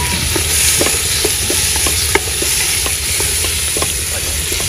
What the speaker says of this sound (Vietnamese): Cho thịt xào luôn cả nhà